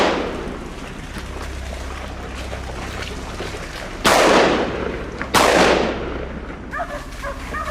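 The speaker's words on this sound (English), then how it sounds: "Startled by the gunshot, the boar bolted" Two sharp, loud gunshots about a second apart, fired at a wild boar on a Texas farm, each cracking over a low engine-like drone and trailing off, followed by faint rustling.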